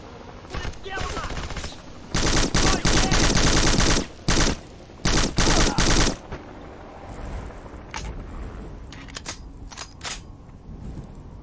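Gunfire in the video game Black crackles in rapid automatic bursts with short pauses, then sparser single shots trail off, loud and close.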